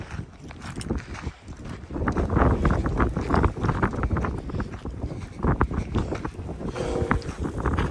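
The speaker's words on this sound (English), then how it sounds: "Windy." Strong wind buffets the microphone in loud, continuous gusts, with low rumbling and occasional crackles, no voices.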